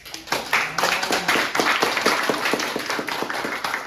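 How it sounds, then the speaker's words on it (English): An audience at a spoken-word poetry event claps together, a close, lively burst of many hands with distinct sharp slaps in quick rhythm, staying strong throughout. "Clap for yourselves"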